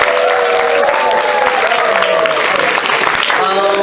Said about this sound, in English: So I'll let you guys to applaud yourself for this one.